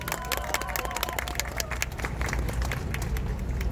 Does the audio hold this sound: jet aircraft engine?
no